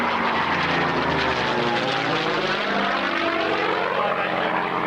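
A propeller-driven warbird flies a display pass at an air show, its loud, continuous engine drone shifting in pitch as it moves across the sky.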